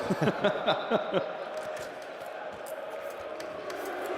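A crowd of fans at an esports tournament, Gentle Mates against FaZe Vegas, cheers and chants rhythmically in a large hall, loudest at first, then settles into a steady roar under a commentator's voice.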